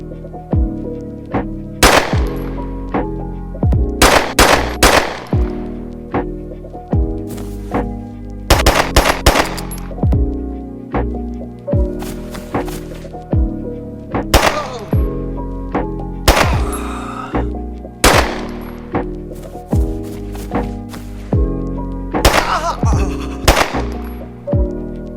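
An unfinished, unreleased gun in the DayZ video game firing repeatedly, loud sharp shots in quick bursts and single reports spread across the whole stretch, close and punchy over a low background.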